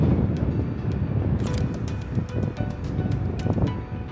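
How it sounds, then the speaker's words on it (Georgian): Strong outdoor wind buffets the microphone with heavy, continuous low rumbling and gusty thumps while someone photographs a Ford Mustang, with faint clicks and no clear talking. "აქ ძლიერი ქარია და ხელი მიგანგებს."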